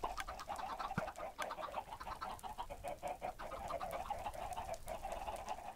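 Chickens in Minecraft cluck in quick, repeated bursts from a crowded pen of egg-laying birds, a steady chatter of overlapping clucks at moderate volume.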